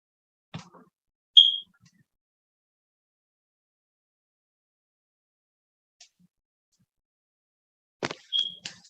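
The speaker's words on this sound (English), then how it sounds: "that chirping is a fire alarm battery." A fire alarm with a low battery gives short, high, isolated chirps, one early and another several seconds later, each with faint knocks nearby, in an otherwise silent room.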